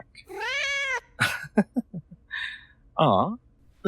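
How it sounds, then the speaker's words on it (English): A cat meows loudly and drawn-out, then gives a few short chirps and another meow, with brief human voice sounds mixed in between. "little Meow came to find you."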